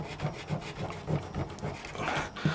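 Rubbing and polishing a coated Baby Yoda figure by hand produces repeated soft, raspy strokes in a steady back-and-forth rhythm. The sound is close and fairly quiet, with no voices.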